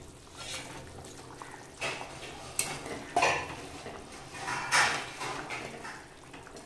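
Fried fish pieces going into a pot of thin Bengali fish curry with lightly boiled potatoes, giving a few scattered clinks and soft wet knocks of utensils against the pot, close by and fairly quiet.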